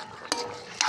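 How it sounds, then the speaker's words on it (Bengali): Taro (kochu) curry cooking in a pot, stirred with a utensil: two brief scraping, clattering strokes over a faint simmering sizzle, close and quiet. "কচু তরকারি হচ্ছে"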